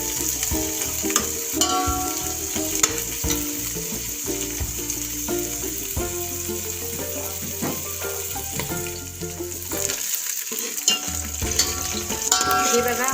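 Dough pieces frying in oil with curry leaves, a dense steady sizzle mixed with frequent clanks and scrapes of a spoon stirring in the pan, briefly dipping near the end.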